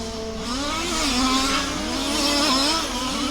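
Race cars speeding down the back straight of a racetrack, engines whining loud and close with rising and falling pitch as they accelerate and pass, several cars overlapping.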